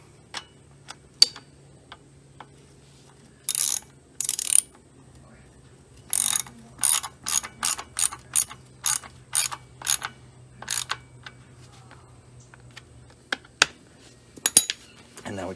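A ratchet turns a 10mm bolt on a 1998 Suzuki JR 50 motorcycle, sounding as quick bursts of sharp clicking, some longer and some short, close up over a faint hum with no talking.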